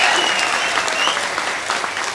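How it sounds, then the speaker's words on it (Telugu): An audience at a political gathering claps loudly for a leader, a dense, continuous burst of applause that carries through the whole moment without letting up. "మనమందరం కూడా వారికి ఒకసారి గట్టిగా చప్పట్లతో మన సంతోషాన్ని వెలిబుచ్చుదాం"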